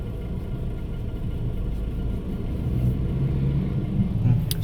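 Evening traffic on Souphanouvong Road in Vientiane, thick with tour buses, makes a steady low rumble of engines nearby while a voice talks over it.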